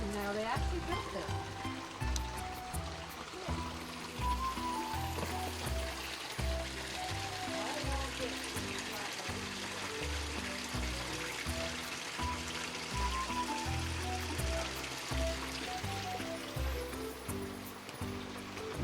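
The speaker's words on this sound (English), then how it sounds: "See the irrigation canal, they actually built that." Water flows steadily through an irrigation canal at Montezuma Castle in Arizona, a continuous rushing wash mixed with a dense, busy layer of other sound throughout.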